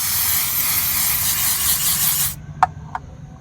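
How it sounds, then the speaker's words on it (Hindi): A "2 number" (knockoff) aerosol spray can being sprayed in one loud, steady hissing burst lasting over two seconds, then cutting off, followed by two faint clicks. "अगर जरा स्प्रे मार लिया जाए, 2 नंबर स्प्रे।"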